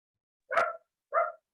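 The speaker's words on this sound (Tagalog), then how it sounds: "ay, may asang tumatahol." A small dog gives two short, sharp barks about half a second apart, fairly faint and a little distant, with quiet in between.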